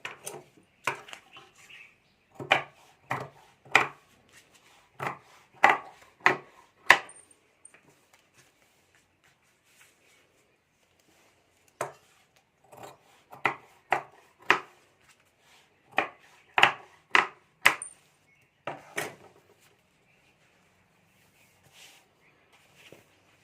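Fabric being cut while making a Banjara handbag: crisp, sharp snips in quick clusters of three to five, separated by quiet pauses in a still room.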